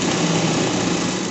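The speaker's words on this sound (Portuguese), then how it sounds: "Faço uma costura de segurança," A sewing machine runs a safety seam on a pet garment, a steady fast whirring stitch heard up close at moderate volume with no pauses.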